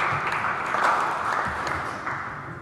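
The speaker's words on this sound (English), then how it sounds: "I would even think it might deserve a round of applause" An audience at a 2005 debate on Iraq and US foreign policy gives a brief, moderate round of applause, a steady rustle of clapping that fades slightly toward the end.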